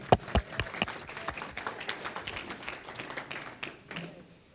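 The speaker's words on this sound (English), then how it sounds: "Let's give her another round of applause for Jonathan." An audience at an African American History commemoration event applauds with scattered individual claps forming a moderate, steady round that continues for several seconds, fairly faint and distant.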